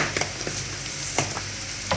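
Tadka of green chilies and a tablespoon of cumin seeds sizzling in hot oil, a steady close hiss with a few sharp stirring clicks and spatters.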